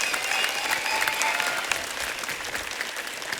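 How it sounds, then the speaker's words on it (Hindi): A television comedy studio audience claps loudly for arriving guests, a dense, even burst of applause that fades slightly toward the end. "जोरदार तालियां सबके लिए।"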